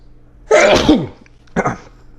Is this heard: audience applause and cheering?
no